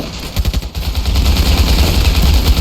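Sustained automatic gunfire in Ravenfield's WWI trench battle, dense rattling bursts blending into a continuous loud barrage with no talking.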